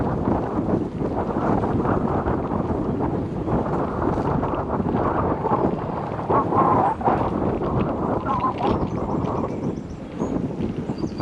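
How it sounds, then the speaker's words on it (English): Wind buffets a helmet-mounted action camera while riding a vintage Eddy Merckx road bicycle at about 10 mph, a loud, steady roaring rush with low rumble that persists throughout, with no speech over it. "I can hear the wind in my ears."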